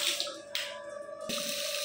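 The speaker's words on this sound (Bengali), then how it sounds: "তোমরা দেখতে পাচ্ছ জলের প্রেশার কেমন বেড়ে গেছে" A bathroom water tap gushes at strong pressure, a loud, close, continuous rushing stream with a couple of abrupt surges as the flow shifts, with no voices.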